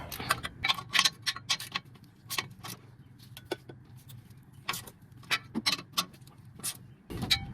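A hand ratchet clicks in short quick bursts while tightening transmission mount bolts on a 2009–2012 Ford Escape 2.5L, faint and close, with brief pauses between runs of clicks.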